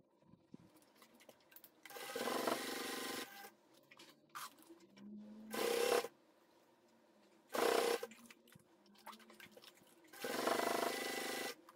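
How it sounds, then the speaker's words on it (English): A sewing machine runs stitching rows along bias tape on a clear vinyl bag, heard as four separate bursts of loud close whirring with quiet gaps between them. "Sew to row of stitches, first with a 1/8 from the edge of the bias tape, followed by another 1/8 away from the first stitches."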